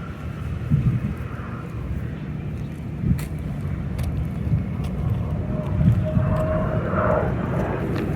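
Two F-18 Hornet jets pass overhead near Pearl Harbor in Hawaii, a broad distant engine roar that swells and lingers over outdoor background noise.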